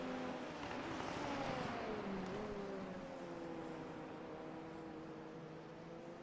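Formula-style race cars in the iRacing sim heading to the start-finish line after the Miami race, several engine whines rising and falling as cars pass over a continuous low roar, moderately distant and without talk.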